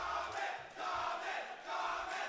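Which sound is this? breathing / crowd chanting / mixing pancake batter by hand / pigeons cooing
crowd chanting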